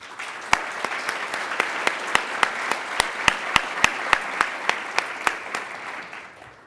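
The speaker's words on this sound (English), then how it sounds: "Let's please give all these people a round of applause." A conference audience gives a round of applause that stays steady throughout, with individual sharp claps standing out above the dense clapping.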